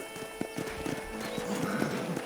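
Rhythmic hoofbeats clip-clop at a steady trot in the video game Red Dead Redemption, with a horse snorting and faint ambient background sounds.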